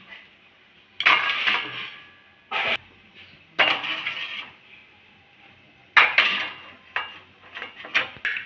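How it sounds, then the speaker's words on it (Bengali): Ceramic bowls of beaten egg mixture set down onto a metal plate on a stand inside a pot of water for steaming, giving several sharp clinks and knocks in separate bursts with quiet gaps between. "আর বাটিগুলো বসিয়ে দেবো।"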